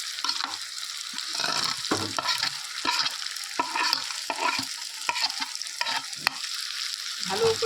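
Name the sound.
stirring fried paneer into cauliflower and potato with spices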